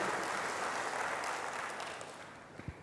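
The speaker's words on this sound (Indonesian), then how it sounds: "berikan tepuk tangan yang hebat bagi dia" Applause from a church congregation during a sermon: dense, steady clapping from many hands that slowly thins toward the end, with no talking over it.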